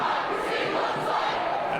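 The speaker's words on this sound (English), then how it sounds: "the protesters out here as they continue to chant" A street protest crowd chants and cheers in a continuous, dense roar, fairly distant and steady, with no single voice standing out.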